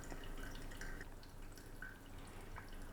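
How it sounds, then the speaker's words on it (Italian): Water poured slowly in spirals over ground coffee in a filter for a pour-over brew, giving a steady, close trickling and splashing with small drips throughout. "Quindi l'acqua non va versata velocemente, sempre nello stesso punto."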